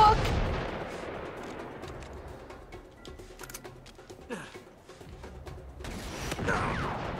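Rifle shots in the video game Uncharted 3, sniper fire among scattered gunshots and creaking mechanisms, a few sharp cracks over a busy combat soundscape, moderately loud, no talk.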